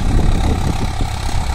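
A Swraj 744 XT tractor engine runs steadily at about 1200–1300 RPM, a loud, continuous low diesel rumble with no break and no talking.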